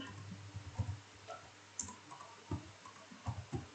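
Keyboard typing on a computer, soft close clicks in small irregular clusters over a quiet background hum, with no talking.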